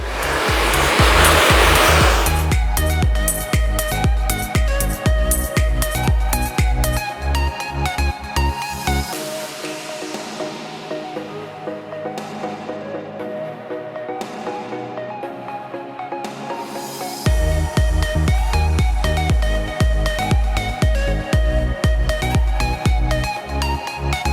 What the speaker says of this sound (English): Now it's all brushed out, let's blow dry and style.